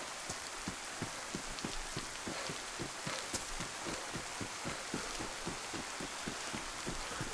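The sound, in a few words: heavy rain in the video game DayZ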